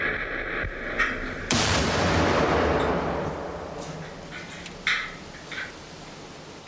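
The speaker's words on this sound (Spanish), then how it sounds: "es sometido a la fuerte detonación de una explosión de bomba colocada en un vehículo adyacente" A bomb placed in an adjacent vehicle detonates beside an armored car prototype during a blast test, a single loud, sharp explosion with a long noisy decay. A couple of quieter knocks follow as the blast fades.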